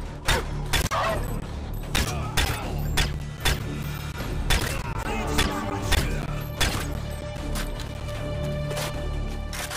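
Gunfire in the video game Modern Warfare 3, set on an icy stage: repeated sharp shots and thuds burst out loudly across the whole stretch, layered over a steady game background.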